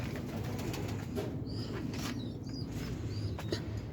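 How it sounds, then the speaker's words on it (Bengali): A pigeon coos softly against a low outdoor hum, with a few short warbling calls at a distance over the few seconds. "এই যে কবুতর,"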